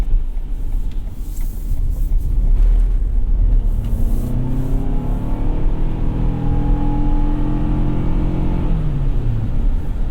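A 2021 Toyota Sienna minivan accelerates on a wet road, its engine note rising steadily in pitch under a constant loud rush of tire spray and road noise, heard from inside the cabin.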